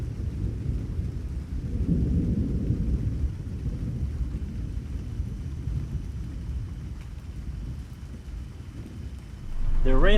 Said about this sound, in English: The rain weather came in kind of fast, so I just gotta wait this out sitting here.